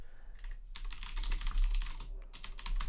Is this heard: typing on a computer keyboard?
yes